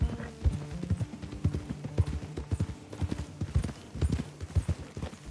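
Horse hooves gallop in Red Dead Redemption 2 on PS4, a rapid, steady clip-clop of repeated impacts close and loud, with low tonal game music or ambience running underneath and no talk.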